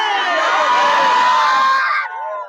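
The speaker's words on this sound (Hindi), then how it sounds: "एक बार पावर स्टार चिल्ला करके बोल दीजिए ताकि सुने हमारी ऑडियंस" A large outdoor crowd of fans at a temple visit shouts and cheers loudly and continuously, a dense roar of many voices that drops off sharply near the end.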